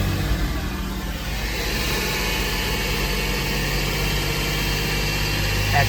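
Porsche Boxster 986 engine held at a steady raised idle around 2,000 RPM, a continuous close-up hum and vibration with no clear surges, running alone throughout.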